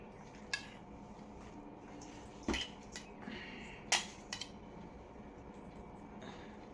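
Cutlery clinks sharply against plates a few scattered times during a home rice meal with fried greens, close and otherwise quiet.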